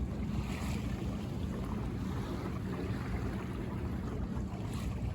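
A Buccaneer 18 sailboat slips along under sail on a high-summer day, with a steady wash of water along the hull and constant wind buffeting, even and moderately quiet with no talking.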